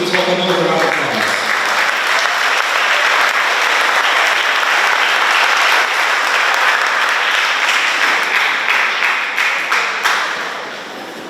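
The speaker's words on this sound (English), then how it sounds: "Please welcome him with a round of applause." An audience applauds at an education week event, steady, dense clapping that fills the room at full strength before tapering off toward the end.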